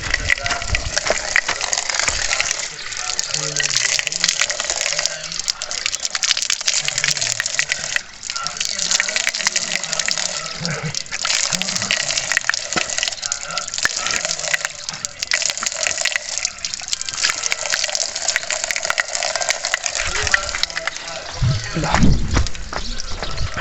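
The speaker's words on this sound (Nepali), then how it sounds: "यहाँनिर एउटा धारो छ" Water gushes steadily from an outdoor tap while someone washes their face, a continuous hissing splash close to the microphone with brief dips, and voices sound faintly in the background.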